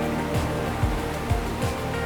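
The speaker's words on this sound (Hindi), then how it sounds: "जहां पर अलकनंदा और मंदाकिनी नदी का संगम होता है।" The Alaknanda and Mandakini rivers meet at Rudraprayag in a loud, continuous rush of flowing water, with rolling surges heard close and without voices.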